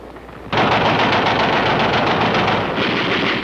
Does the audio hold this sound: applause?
no